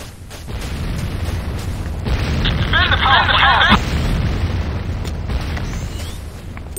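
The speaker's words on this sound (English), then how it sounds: "GDI infantry barracks destroyed. Target eliminated. Enemy structure destroyed." An enemy barracks blows up in the Command & Conquer Renegade shooter game, a loud rolling explosion with crackling debris and rumble filling the whole stretch, while voices sound over it.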